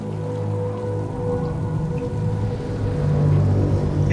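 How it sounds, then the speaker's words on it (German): Steady rain falls during a rainy mission in the video game Mass Effect 3, a continuous hiss layered over a low game rumble and droning music, swelling slightly louder toward the end with no talking. "Es regnet."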